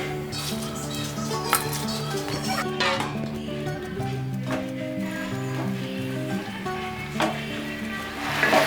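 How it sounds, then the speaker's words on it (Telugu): Gongura (sorrel leaves) frying lightly in oil in a pan on a gas stove: a moderate, continuous sizzle with occasional clinks of a utensil against the pan, close by, no talking. "ఆయిల్ వేసుకున్నాక గోంగూర వేసుకొని లైట్గా వేయించుకోవాలి."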